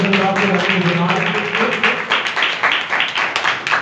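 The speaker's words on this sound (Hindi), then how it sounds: "तो जोरदार तालियां बजाकर" A church congregation in Pakistan claps loudly and rhythmically during a Sunday worship meeting, the close, sharp claps repeating in a steady beat and joined by some voices.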